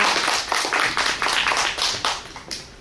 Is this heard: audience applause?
yes